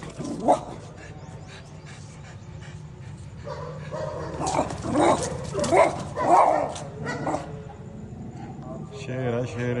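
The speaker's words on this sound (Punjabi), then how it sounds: "ਬਾਹਰ ਵੱਡੇ ਵੱਡੇ ਕੁੱਤੇ ਫਿਰਦੇ ਨੇ" Large dogs bark and yip in a short burst of several barks outside, with whimpering and people talking in the background.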